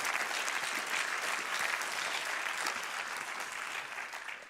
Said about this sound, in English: Let's give them another big applause